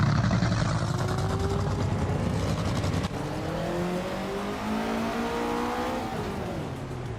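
Several 2011 Chevrolet Silverado race trucks in a racing video game roar loudly, their engines revving and shifting in rising and falling pitch sweeps as they pass close by, with a sudden drop in level midway.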